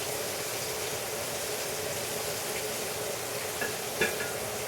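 Snapper fish fries in a pan, giving a steady close sizzle and crackle throughout, with a couple of brief clinks near the end and no talking.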